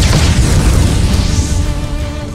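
Loud fiery burst from a fire spell in Octopath Traveler 2, a booming, crackling blast that fades gradually over a couple of seconds.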